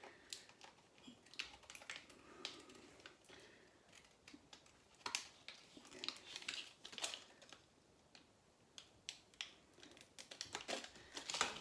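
Scissors cutting around child-proof medicine packets, quiet close snips mixed with crinkling plastic and foil in irregular bursts.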